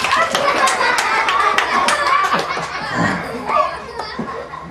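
Scattered clapping from a children's audience at a summer library animal program, mixed with kids' chatter and laughter, close and lively with uneven bursts.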